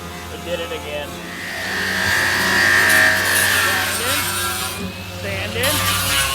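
Grinding and sanding on the metal of a 1959 Ford Galaxie rust bucket, a sustained rasping whir that swells and holds steady over several seconds, with a low hum and occasional voices underneath.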